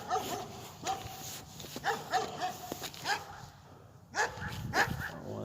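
Dogs bark in repeated sharp bursts with a few higher yips mixed in, at moderate distance, over a steady background hum and faint voices.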